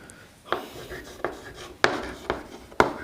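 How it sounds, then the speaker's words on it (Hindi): Marker or chalk writing on a classroom board during a Class 10 chemistry lesson, heard as four sharp, separate taps and strokes spaced about a second apart, close and clear with no talk. "मैं यहाँ पे लिखता हूँ हाइड्रोकार्बन।"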